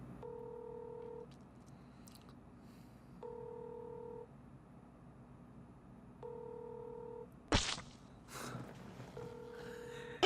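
Phone ringback tones repeat at regular intervals, each a short steady double tone, with a brief loud rustle near the end.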